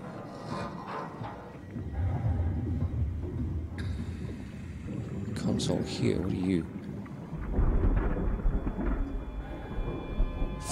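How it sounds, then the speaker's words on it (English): Deep rumbling from fault line activity in the underwater SOMA video game rolls and swells in waves, joined by creaks and metallic groans, with a voice speaking in places. "Fault line activity. So those are the noises that we're hearing."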